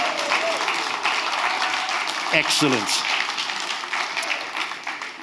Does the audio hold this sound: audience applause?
yes